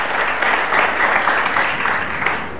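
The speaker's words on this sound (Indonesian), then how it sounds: "Tepuk tangan." A studio audience on an Indonesian television talk show claps. The applause is dense and loud and holds steady for the whole stretch, with no speech over it.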